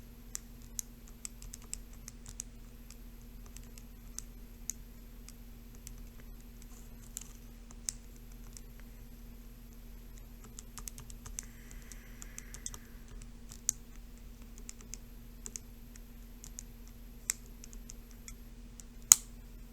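Keys tapped on a calculator keypad while entering data for regression lines, giving quiet, sparse clicks spread irregularly over a steady low hum, with no voices.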